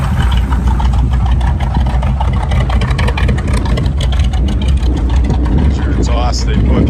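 An old truck engine runs steadily with its exhaust rumbling, a loud continuous low drone with some rattle; people talk over it throughout.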